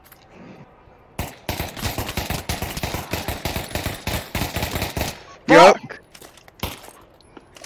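Rapid automatic gunfire from guns in the VR shooter Pavlov VR rattles in dense bursts for several seconds, with a louder blast near the end and a voice swearing over it.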